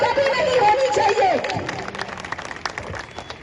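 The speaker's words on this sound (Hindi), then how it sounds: "मुश्ताक भाई के लिए 1-2 तालियां हो जाए।" A crowd at a political campaign speech for an NCP candidate at a playground breaks into brief scattered clapping and murmurs. It follows a moment of loud voices and fades quickly.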